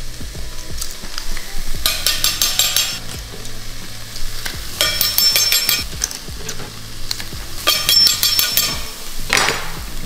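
Onion and garlic sizzle in olive oil while a utensil stirs and scrapes the pan in repeated bursts, with clinks of metal on the pan between them; there is no talk.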